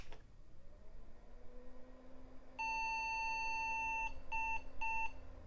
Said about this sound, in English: we got the initial beep codes